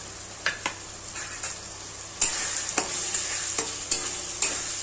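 Spice masala for dal tadka is stirred and fried in a pan, with a soft continuous sizzle broken by repeated sharp scraping strokes of a spoon against the pan.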